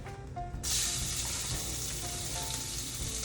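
Shrimp dropped into a hot pot for seafood gumbo set off a sudden loud, steady sizzle that continues after a quiet start with light clinks.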